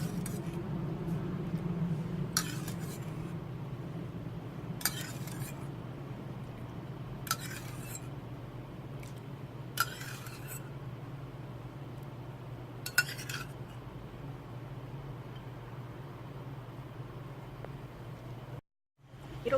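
Rice flour being stirred with water in a bowl for baekseolgi, a Korean steamed rice cake, with a soft steady scraping and periodic sharp clinks of a utensil against the bowl about every two and a half seconds.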